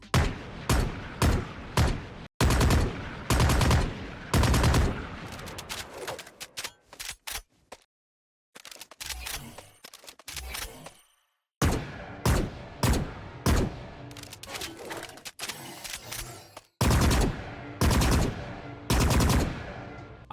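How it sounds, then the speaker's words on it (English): Gunfire from the Valorant Neo Frontier 2.0 bundle weapons, loud bursts of rapid shots and single cracks fired in clusters, separated by brief silences and a softer reload-like rattle midway. "Then the same goes for the shooting sounds between those two styles as well."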